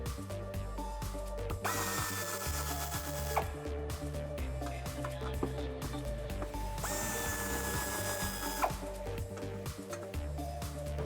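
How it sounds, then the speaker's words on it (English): Power tool spinning out bumper bolts from the frame rails of a Jeep Wrangler JK, a steady whirring drive with two higher-pitched whining bursts, close and continuous under a faint mechanical hum, no talk. "Now I'll remove the same 2 bolts on the other side."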